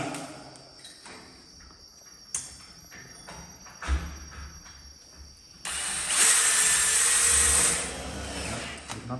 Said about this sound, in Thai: ยึดน็อต ยึดน็อตตรงนี้